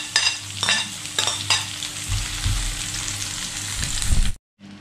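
Garlic and onion frying in a pan with a steady close sizzle, broken by a few sharp stirring scrapes, before cutting off abruptly at the end.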